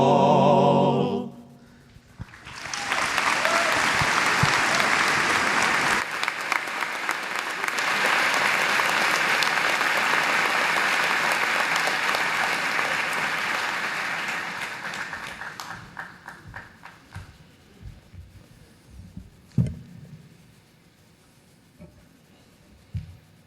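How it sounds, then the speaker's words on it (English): At a college commencement, an audience breaks into loud, sustained applause lasting over ten seconds, then fades to scattered claps and a few sharp final hand claps. "can we get one more hand of applause for the Crimson Quartet"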